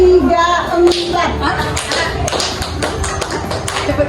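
A group of adults and children claps hands together in short counted bursts, sharp irregular claps and taps led by a voice calling out the counts, with a busy indoor room around them.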